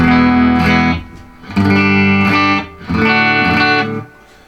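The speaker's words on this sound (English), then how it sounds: "If you put the reverb up just a tiny bit, this is on 3" Electric guitar through a Fender Tone Master Twin Reverb amp with reverb set to 3, playing three sustained, slightly driven chords, each ringing out with a short reverb tail before the next, loud and close with no talking.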